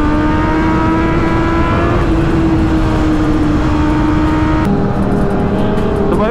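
Sport motorcycles including a Kawasaki Z900, ZX-10R, Benelli, BMW and GT650 roar past loudly in a steady high-revving drone, the engine pitch dropping sharply partway through as they pass close by.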